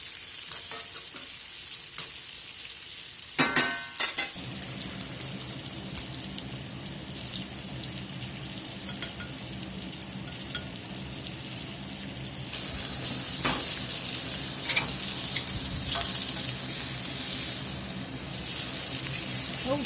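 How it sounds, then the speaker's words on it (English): Pork chops fry in a pan with a steady, loud sizzle throughout, a few sharp clatters early on and a brief swell of hissing partway through. "Those sizzled up about 5 minutes."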